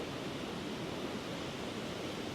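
Water flows at a scenic stream in a steady, soft, unbroken rush with no voices over it.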